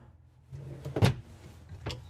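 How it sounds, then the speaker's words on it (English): Storage cabinet doors under the counter of a 2025 Newmar Dutch Star 4369 RV bathroom being opened, with a soft rattle, a sharp knock of the door and a second quieter bump, close up and without talk. "these two doors, if I can get them to stay open, are going to open all the way across"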